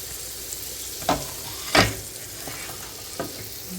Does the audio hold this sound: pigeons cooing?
no